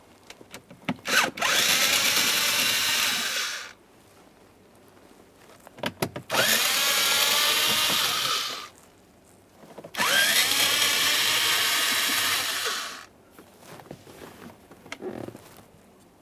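A power drill whirs in three long bursts, pausing between each, while removing the upper mounting screws during HVAC blower motor work on a 2009-2014 Nissan Maxima, close and clear with short clicks and handling noises around it.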